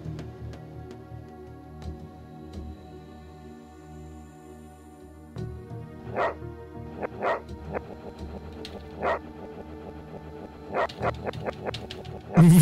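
A dog in the video game Commandos 2: Men of Courage barks repeatedly at mid distance, sharp irregular yaps growing louder over a quiet game ambience.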